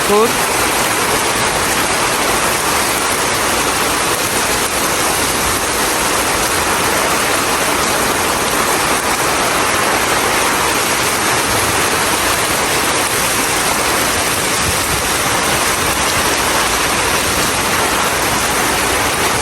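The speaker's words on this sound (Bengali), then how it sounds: "এত বৃষ্টি জোরে জোর বৃষ্টি ঝড় হচ্ছে বাতাস" Heavy rain lashes down during a windy storm, a loud unbroken roar of falling water that holds steady from start to finish with no letup.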